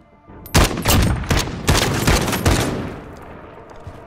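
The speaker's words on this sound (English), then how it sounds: "It's so hard to shoot that damn gun." Gunfire in Call of Duty: Modern Warfare at night: a burst of loud, sharp shots, several distinct cracks in quick irregular succession over about two seconds, then a decaying echo into quiet, close and without talk.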